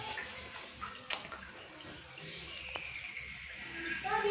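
Water runs continuously from a faulty sanitary fitting, a steady faint hiss and trickle indoors with a few small clinks.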